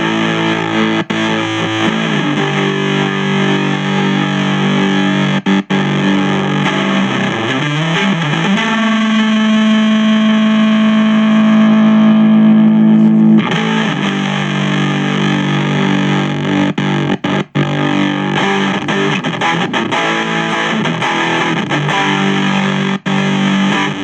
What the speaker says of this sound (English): I'm going to go straight through to distortion and see what other options that we've got.